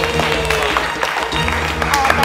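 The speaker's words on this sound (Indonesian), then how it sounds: "Tepuk tangan." An audience claps to welcome a storyteller onto a children's Quran-themed show, a brief burst of applause mixed with crowd voices and some background tones.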